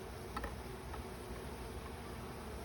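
Honeybees drone in a faint, steady buzz around an opened hive being closed back up, with a few slightly closer passes early on.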